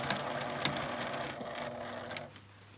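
A sewing machine stitches all the way around a lunch bag with a handle, running in a steady fast mechanical whir with clicking accents, then slowing and stopping near the end.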